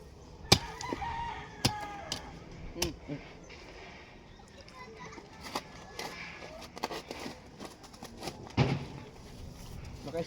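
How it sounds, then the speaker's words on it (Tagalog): Rooster crowing at a home, with a few crows and clucks that come through faintly amid clattering and scattered knocks while people talk. "Ba't 3 beses ba nakatoktoraok ang ano manok?"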